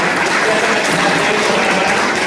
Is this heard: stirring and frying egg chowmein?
no